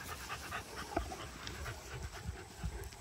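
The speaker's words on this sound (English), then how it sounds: "Who's panting over here, dying?" A dog panting steadily in quick, rhythmic breaths close by, among a group of dogs at home, with no talking.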